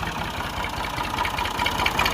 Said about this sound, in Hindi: ट्रैक्टर देखें वो आ गया है सामने